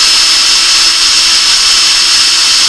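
A powerful KAMOLEE cordless drill, also used as an ice auger driver, runs flat out with a loud, constant high-pitched whine, close and steady throughout with no talk.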